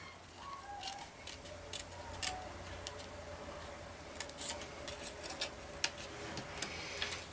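Scissors snipping a paper flag for a stamped card, a quick series of faint, crisp cuts and ticks spread across the clip over a quiet background hum, with no talking.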